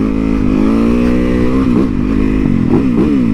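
A Supermoto motorcycle is ridden with its engine droning loudly and steadily up close, the pitch rising and dipping slightly with throttle changes.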